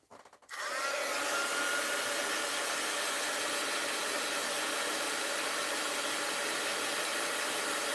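A blow dryer switches on after a brief moment of quiet and then runs steadily, a loud, constant airy whine and roar holding close by until the end, with no talking.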